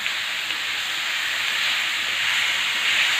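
Radish pieces hitting hot oil with turmeric and coriander give a steady, loud sizzling hiss close by, continuous for about three seconds with no talking.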